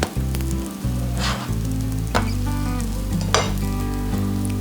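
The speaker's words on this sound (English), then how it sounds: "So we get that sizzle." Crumpets fry in a hot pan with a steady crackling sizzle, punctuated by a few brief scraping stirs or utensil strokes, close and fairly loud, with no speech.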